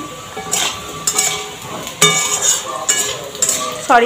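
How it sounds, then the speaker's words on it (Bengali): Potato pieces fry in a pan for a vegetarian potato and paneer curry, with a soft sizzle under repeated spatula stirring, scraping and light metallic clinks, close and steady. "পনির নয়, আলুটা ভাজা হয়ে গেছে"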